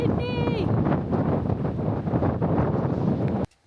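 Strong gusty wind buffets the microphone at a campsite on a cold stormy May day, a loud constant roar with a person's voice briefly heard over it.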